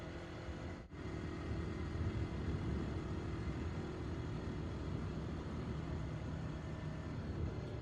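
A Yamaha MT-03 motorcycle cruises along a coastal road, its steady engine drone blended with constant wind rush, heard close and unbroken apart from one brief dip near the start.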